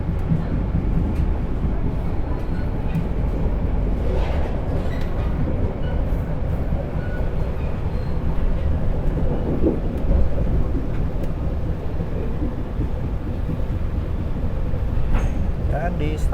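A Pangandaran panoramic passenger train runs on the rails in Indonesia, giving a loud, steady low rumble from inside the carriage with faint rattles and clacks. Faint talking can be heard under the noise.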